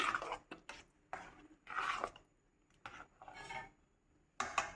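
A spoon stirs paramannam, a rice pudding, scraping and clinking against a metal pot in about seven irregular, close strokes with short quiet gaps between them and no voices.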